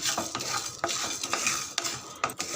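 Dry spices, roasted for a chicken fry masala, are stirred in a pan, giving repeated close scraping strokes over a light sizzle, with no voices.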